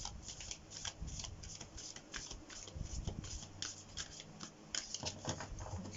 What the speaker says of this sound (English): So let's get a Moonology card